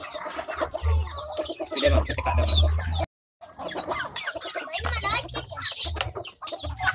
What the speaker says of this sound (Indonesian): ini adalah ayam-ayam saya yang sedang saya kasih pakan di sore hari ini